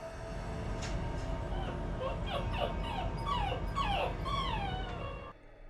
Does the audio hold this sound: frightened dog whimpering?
yes